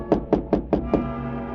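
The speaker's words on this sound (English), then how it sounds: "I heard a tap on my door." Five evenly spaced knocks on a wooden door, close and crisp, each a sharp rap with a short resonant tail, in a radio drama setting.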